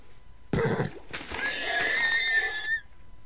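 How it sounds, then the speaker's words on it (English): A horse in the Minecraft video game whinnies and neighs loudly while being killed, a bright wavering cry over game noise, with a faint voice in the background. "Why are you killing your horse?"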